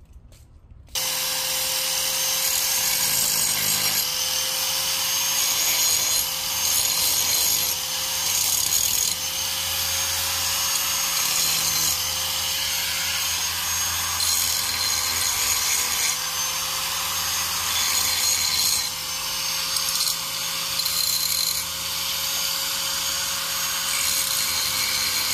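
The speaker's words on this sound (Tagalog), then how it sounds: "Punin ko nga muna yung grinder doon." An angle grinder grinds rust off a metal blade in a backyard, a steady loud whine running continuously for about 25 seconds with slight changes in pitch and pressure.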